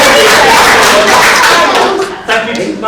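Loud, dense clapping from a crowd, sustained for a couple of seconds before thinning out slightly, with a few voices mixed in.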